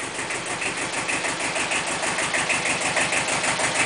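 A Kubota B7000 small diesel tractor idles close by, giving off an even, fast, throbbing chug with a slightly clattering edge and no other sounds.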